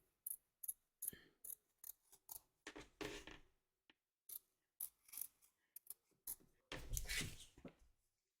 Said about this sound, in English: trim around the edge of your segment